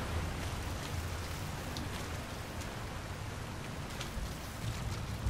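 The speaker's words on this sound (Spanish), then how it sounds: "me gusta mucho cuando llueve" Rain in Metal Gear Survive falls as a constant hiss of drops on surfaces, steady and moderately quiet throughout with a few sharper patters and no speech.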